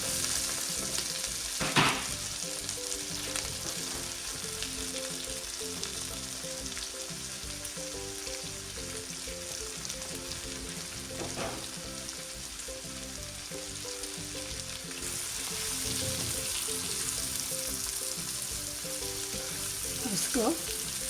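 Bottle gourd frying with softened tomatoes in a pan gives a steady, close sizzle that runs the whole length, with a few brief stirring scrapes along the way and no talking.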